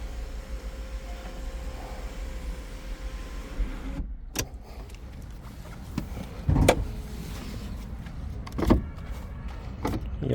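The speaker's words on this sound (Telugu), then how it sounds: "సన్ రూఫ్ వర్కింగ్లో ఉంది" Electric sunroof motor whirring on a 2019 Hyundai Creta 1.6 SX automatic diesel, a steady low hum with a couple of short clunks and thuds near the end, heard close inside the cabin without talk.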